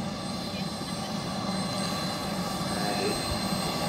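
A giant 1/3 scale RC BAE Hawk 100 jet model at an outdoor flying event, its turbine engine holding a steady, loud broadband roar throughout with no breaks.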